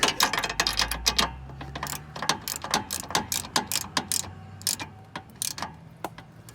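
A hand ratchet tightens a mounting bolt on a lower-grille LED light bar fitted to a 2016-or-later Toyota Tacoma. It makes a rapid run of close, sharp clicks in an uneven rhythm throughout, with no speech.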